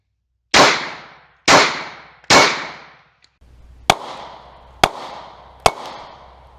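Six sharp gunshots fired at a WW2 German M40 steel helmet in a ballistic test, three long echoing booms followed by three crisper cracks, evenly spaced, loud and close, with no talk.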